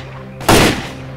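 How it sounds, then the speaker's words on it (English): A single loud gunshot burst from S.T.A.L.K.E.R.: Call of Pripyat, a sharp blast with a short ringing tail, standing out over a steady low game background hum. "I hear so many gunshots."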